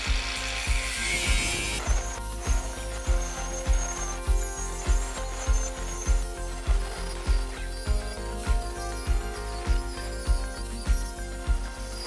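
A WOSAI cordless brushless tool cuts with a disc, producing a high whine at first and then a loud, steady train of rhythmic mechanical pulses, about two per second, with no talking.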